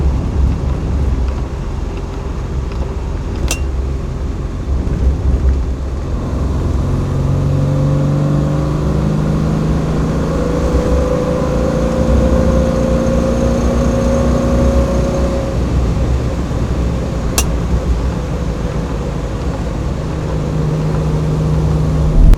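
An Austin A40 Farina classic car driving on winding country roads, its engine humming steadily from inside the cabin with rising and falling gear-change whines, two sharp clicks along the way.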